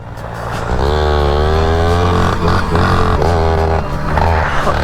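Small, restored first dirt bike ridden on a trail, its engine buzzing loudly and close with repeated rising and falling revs as the throttle is blipped and eased.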